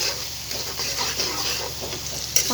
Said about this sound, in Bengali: এটাও আমি সুন্দরভাবে একটু কষিয়ে নিচ্ছি।